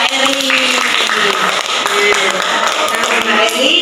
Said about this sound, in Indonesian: tepuk tangan untuk Mbak Eri.